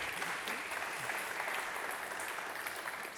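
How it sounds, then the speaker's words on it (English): Steady audience applause for the elders at a fireside chat on design and innovation, a dense uniform patter of many hands held at even strength from start to finish. "Can we give our elders a round of applause,"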